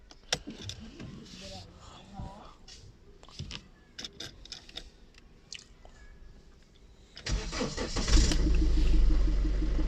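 A Mercedes A160 engine is cranked with the key, giving a few quiet clicks and turns before the engine catches, roaring up near the end into a loud steady idle.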